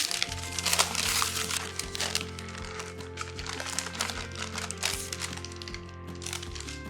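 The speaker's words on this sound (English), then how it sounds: "I'm going to transfer it using the parchment so that I have a little bit more control" Parchment paper crinkles and crackles as a rolled-out pie crust is lifted and moved, a close, steady rustling over a faint kitchen hum.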